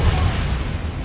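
A Bombarda spell explosion from a video game booms as a dense, loud burst of low rumble and noise that fades slightly over about a second.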